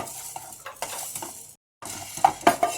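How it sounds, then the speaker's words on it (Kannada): Black pepper dry roasting in a pan, giving a steady crackling sizzle with scraping stirs, a brief pause, then sharper pops and clinks near the end. "ಮೆಣಸು ಚೆನ್ನಾಗಿ ಹುರಿದಿದೆ ಚಿಟಿ ಚಿಟಿ ಅಂತ ಇದೆ"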